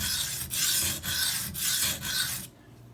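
A Maxamet steel knife is drawn across a Venev diamond sharpening stone in about five even, rasping strokes at a steady pace, close and fairly loud, then the grinding stops abruptly into quiet.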